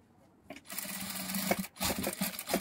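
A domestic sewing machine stitching lace onto a cotton blouse: a steady mechanical whirr with a low buzzing hum, running in several bursts separated by short pauses, close and fairly loud.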